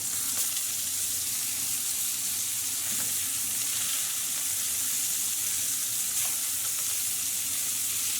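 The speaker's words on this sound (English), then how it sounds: "all we're pretty much doing is cooking these on a medium heat for about 4 to 5 minutes on each side" Danish frikadeller meatballs frying in a pan over medium heat give a steady, loud, dense sizzle that runs unbroken the whole time, with no talking.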